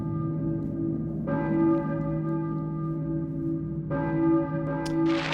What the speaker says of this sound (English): Who is ringing the bell?